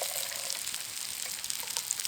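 Water poured into a camp pot for cooking pearl couscous at a remote Australian wilderness campsite, a steady close hiss and gush running throughout the short stretch with no talk.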